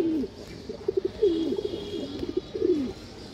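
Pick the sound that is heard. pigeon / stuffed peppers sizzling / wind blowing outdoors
pigeon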